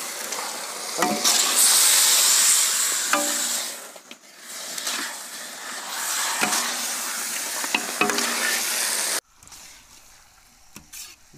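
Turkey meat tipped into a hot pan for Indian-style turkey curry, then stirred as it fries: loud steady sizzle with scraping stir strokes, close up, and no talking, ending in quieter frying.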